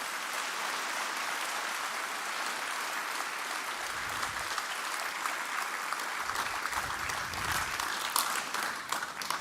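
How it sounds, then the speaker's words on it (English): An audience at a national transport conference applauds continuously for about nine seconds, a dense, even wash of many hands clapping from across a large hall. "Ladies and gentlemen, can we give His Excellency another round of applause?"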